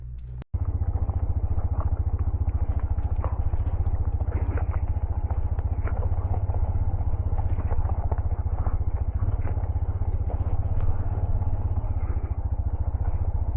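A motorcycle engine idles steadily after a brief click, a low, even rhythmic chug with light mechanical clatter running continuously and fairly close, with no talking over it.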